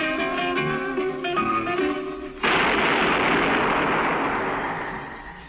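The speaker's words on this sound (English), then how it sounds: "That was the shot that killed Harry Lime." Zither music plays in a 1951 Harry Lime radio drama, then is cut off by a single loud gunshot whose echoing rumble lingers and slowly fades.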